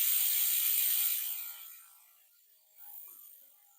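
Rear freewheel hub of a 2023 Pinnacle Arkose X Di2 gravel bike ratchets as the wheel spins freely, a loud, fast buzzing click that slows and fades, then briefly picks up again near the end.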